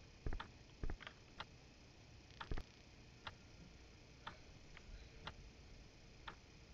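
A clock in the horror game Apartment 327 ticks quietly and steadily, with a few louder knocks or thumps scattered among the ticks and no talking.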